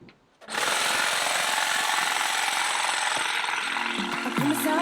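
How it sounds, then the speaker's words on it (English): Trimmers cutting back a plant in a front yard. A loud, close mechanical buzzing rattle starts abruptly after half a second and runs continuously, with a few knocks near the end. "I decided we needed to trim this front thing, so Emmett's got the trimmers."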